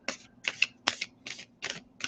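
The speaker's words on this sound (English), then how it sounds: "I want to give it a good shuffle" A tarot card deck being shuffled by hand, six quick rhythmic bursts of crisp card riffling and tapping, close and fairly quiet, with no talking.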